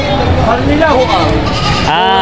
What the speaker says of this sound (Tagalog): Ito po yung mga galing Kalatagan ng mga kambing na to.